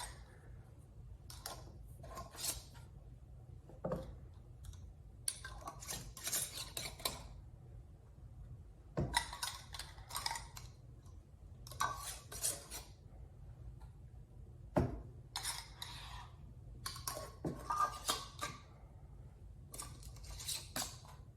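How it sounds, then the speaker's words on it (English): Metal lids set onto clean glass canning jars while preparing salsa and chicken soup for pressure canning, a series of scattered close clinks and rattles over a steady low hum. "then we'll add our lids"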